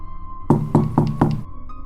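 Four quick, evenly spaced knocks on a bathroom door, close and solid, used as a horror story sound effect in an empty house, with no talking.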